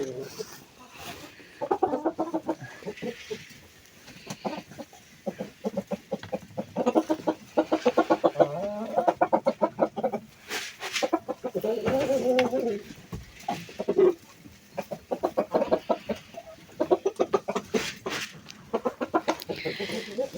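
Village chickens cluck in repeated bursts close by, with some rooster-like calls mixed in, while people talk at intervals over the birds.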